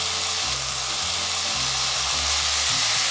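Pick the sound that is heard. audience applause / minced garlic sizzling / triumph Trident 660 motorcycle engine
minced garlic sizzling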